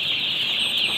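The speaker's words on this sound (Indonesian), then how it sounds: "ini ayam-ayam sudah berumur 8 hari" Eight-day-old chicks make a dense, unbroken chorus of high cheeping that fills the whole moment at a steady, fairly loud level.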